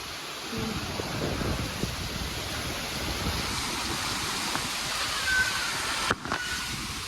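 Heavy monsoon rain pouring steadily in a continuous broadband hiss, close and loud, with gusts of wind and a brief sharp knock near the end.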